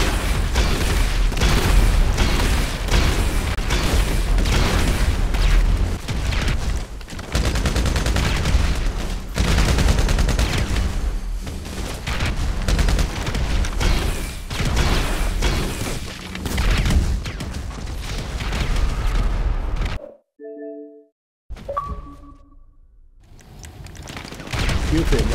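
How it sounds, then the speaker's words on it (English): Rocket launches and blasts in a shooter game, a dense, loud barrage of repeated booms and bursts running nearly continuously, broken by a short quiet gap with faint tones near the end. "Keep shooting rockets where he spawned at"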